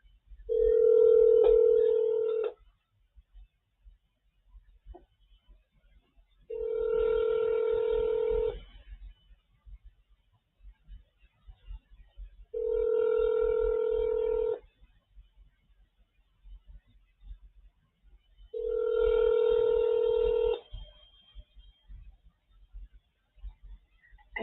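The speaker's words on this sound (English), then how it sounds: "Here's a phone call I did calling them." A telephone call rings out after being dialed, four evenly spaced ringback tones, each about two seconds long with roughly four-second gaps, clear and close with faint background noise between rings.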